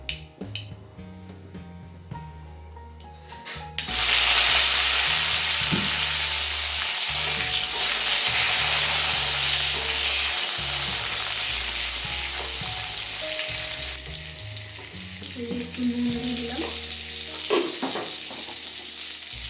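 Spices, mustard paste and turmeric hit hot oil in a pan and burst into a loud, steady sizzle that slowly settles, with a few clinks and stirs of the utensil and no talk.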